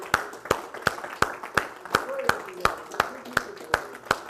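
A church congregation claps in a steady, even rhythm, about a dozen crisp claps spaced evenly, close by, with faint voices underneath.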